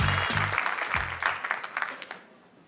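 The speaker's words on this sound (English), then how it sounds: "please give a warm clap for you." A live audience at a spoken word performance claps in welcome: a short burst of fairly close, loud clapping with voices mixed in, tapering off within about two seconds.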